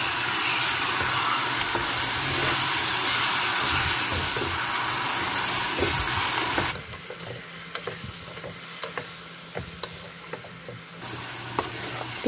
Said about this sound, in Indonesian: Aduk rata.